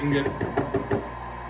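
Four sharp taps ring out in an even rhythm, close and fairly loud, as a freshly painted 5/0 fishing jig is knocked against something to shake off excess paint.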